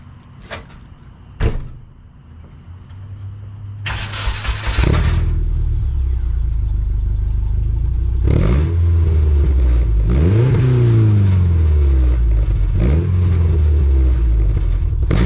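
A stock-engined Subaru GC8 with a Stromung exhaust: door and handling clunks first, then the engine catches and settles into a steady low idle rumble, with a few rising and falling revs from close by.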